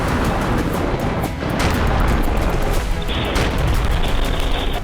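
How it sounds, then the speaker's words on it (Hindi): War zone in Gaza with a dense, loud barrage of explosions and gunfire, continuous rumbling booms and crackling shots overlapping throughout, close and chaotic. "गाजा का कोना कोना बम गोला बारूद से दहल रहा है।"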